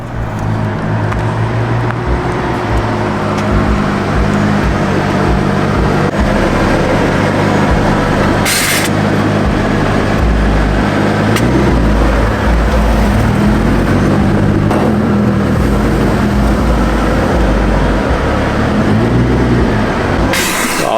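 Chevrolet Corvette C5 engine rumbling steadily throughout, with its low drone building and shifting as the car approaches and drives past, loud and continuous without talk.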